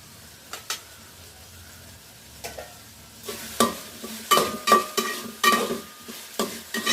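Whole green chillies frying in a pan with onions, giving a steady low sizzle that grows busier midway, with repeated stirring scrapes and clinks rising in bursts.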